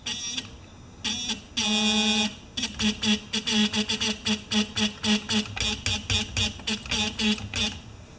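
Electronic buzzer tones sound in a few longer blasts, then a fast run of short rhythmic beeps, fairly close and clear.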